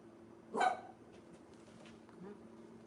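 One short dog bark sounds at a moderate distance over a steady low hum, followed by faint scattered noises and no talk.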